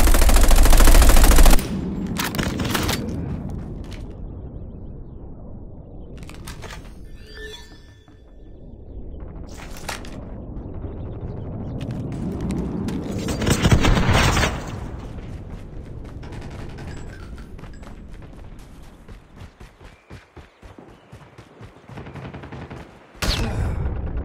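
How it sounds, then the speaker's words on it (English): Call of Duty Mobile strafe run, loud rapid machine-gun fire roaring in dense bursts, with booming impacts and swelling rumbles over a long stretch, ending in a sharp blast. "Hunter killer drone deployed. Friendly strafe run is incoming."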